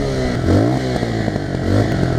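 A Senke SK 125 motorcycle engine revs close up, its tone climbing and falling in two rising blips over a steady idle, loud and alone.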